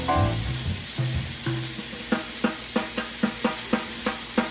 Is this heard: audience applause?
no